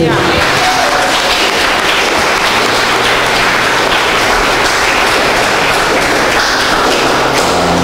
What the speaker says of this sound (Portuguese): aplaude bem forte